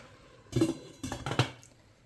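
A metal lid clanks onto a pot twice in quick succession, close and fairly loud, with quiet surroundings.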